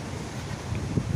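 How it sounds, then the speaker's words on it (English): A gust of high wind in Florida roars as steady broadband rushing and microphone buffeting, swelling slightly toward the end, with no voices. "And there comes another gust of wind."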